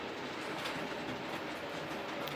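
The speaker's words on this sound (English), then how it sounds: "It's got the top of the clickety-click of a real train." A model train clatters along its track with a fast, steady clickety-clack, close and fairly quiet, with no voices.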